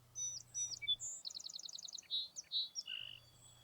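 An American robin sings in spring, a run of clear, rising and falling whistled phrases and quick repeated chirps, close and fairly bright, with a low steady hum beneath at the start and end.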